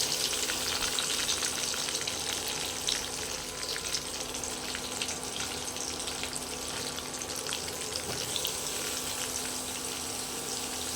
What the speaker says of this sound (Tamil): ஓகே, எண்ணெய் சூடாயிருச்சு. இப்போ வெங்காயத்தை போட்டுக்கலாம்.